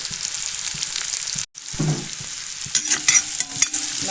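Large onions sizzle and crackle in a hot pan for beef fry with the scrape of stirring, a brief silent gap, then steady frying noise.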